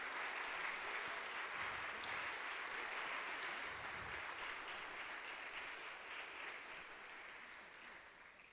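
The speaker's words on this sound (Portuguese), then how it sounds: "Pode aplaudir o Senhor?" Applause from a church congregation fills a worship service, a steady broadband wash of many hands clapping at moderate distance that gradually tapers off toward the end.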